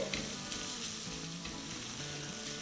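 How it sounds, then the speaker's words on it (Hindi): A boiled, salted and shredded ingredient sautés in a pan for a cool iftar salad, making a steady, close crackling sizzle with faint stirring and no talking. "तो बस इसे हम 30 सेकंड सौटे करेंगे।"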